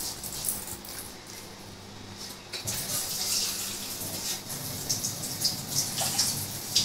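Water is poured into a pan of sugar on a lit gas stove while making a sugar syrup for dahi balushahi, giving a steady, moderately loud splashing and trickling that runs for several seconds with no talking.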